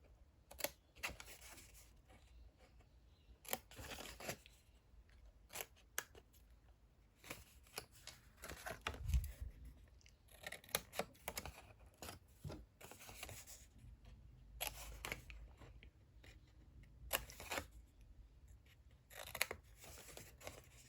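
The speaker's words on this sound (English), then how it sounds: "we're going to cut out these 4 squares" Scissors snip through 6x6 paper, cutting out four small squares for a junk journal insert; short crisp cuts come in irregular bursts with pauses between, close and fairly quiet.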